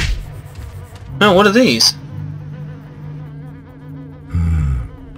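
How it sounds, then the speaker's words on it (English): Sting bees in Oddworld: Stranger's Wrath give off loud, warbling insect buzzes in two bursts, one early and one near the end, over game background with a person speaking briefly. "Sting bees."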